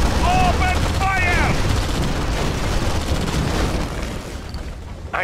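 Units open fire in the real-time strategy game Red Alert 2, with dense overlapping gunfire and booms throughout, a short synthetic voice line at the start and a brief chime near the end.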